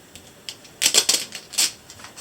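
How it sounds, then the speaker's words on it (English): Packaging tape pulled from the roll and pressed onto cardboard, heard as a few short, close, crackly rips in a quick uneven run. No voices. "Then you just tape it right on."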